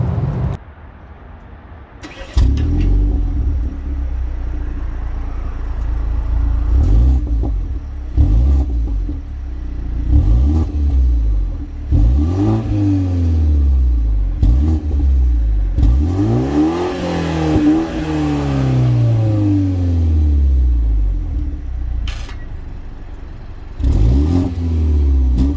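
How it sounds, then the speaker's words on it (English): A 2021 BMW 430i coupe's exhaust heard from outside: the engine idles, then is revved repeatedly in sharp bursts, a deep rumbling roar rising and falling, close and loud. "I will let you hear some sounds right now of the actual exhaust sound from the outside"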